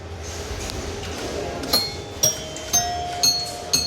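A pinball machine's bell noise unit at the Dutch Pinball Museum strikes at an even pace of about two per second. It gives a run of bright metallic pings over a busy hall murmur.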